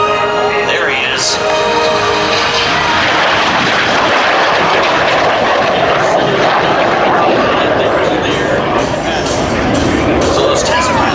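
A MiG-17 jet makes an afterburner fly-by at the Dayton airshow, a loud, sustained roaring engine that rises and sweeps past, with a commentator talking over the public address throughout.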